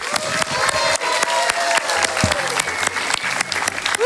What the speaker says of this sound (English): one final round of applause for our finalists